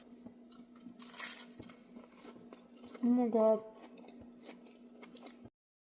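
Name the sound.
biting into a crispy grilled cheese sandwich dunked in soup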